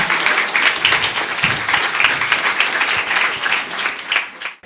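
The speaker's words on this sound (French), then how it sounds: "Nous allons recevoir avec des applaudissements bien mérités Madame Elawama Mara" Audience applause at a panel event on NGO funding, dense and steady for several seconds, loud and close, tapering off sharply at the end.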